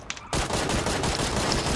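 Gunfire in PUBG erupts after a brief quiet moment and continues as dense, loud, rapid automatic shooting to the end.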